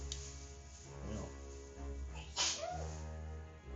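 A single short, sharp human sneeze bursts out midway through, amid casual talk during a tabletop role-playing game session.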